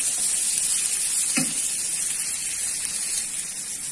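Onions and garlic sizzle in a pan of hot oil, frying until golden brown for fried kubba. The hiss is loud, bright and constant, with a brief stir or clink near the middle.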